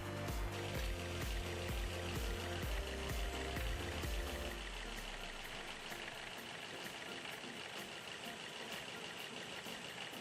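A car engine, just after carbon cleaning and fuel injector cleaning, cranks and catches with a rapid rhythmic chugging, then settles into a steady, low idle.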